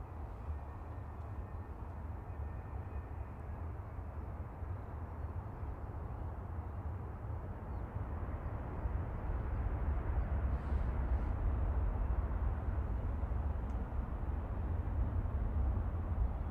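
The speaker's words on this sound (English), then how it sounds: "This is Gulf Air Flight 5 resuming operations this week. A9C-FB 787-9 Dreamliner" A Gulf Air Boeing 787-9 Dreamliner arriving at Manchester Airport makes a distant, steady low jet rumble that swells somewhat louder in the second half, with no voices heard.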